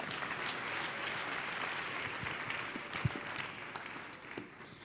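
A church congregation claps steadily throughout a sermon, a dense, continuous wash of applause with a few sharper claps standing out near the end.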